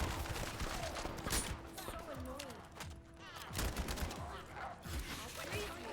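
Assault rifle fire in the shooter game The First Descendant, rapid bursts of shots rattling off in quick succession with a few short pauses, close and punchy.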